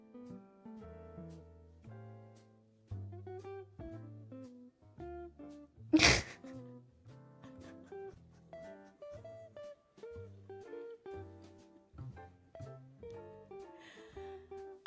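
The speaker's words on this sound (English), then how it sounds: "I sneezed personally for you." A single sharp human sneeze bursts out loud and close midway, alone against steady background music.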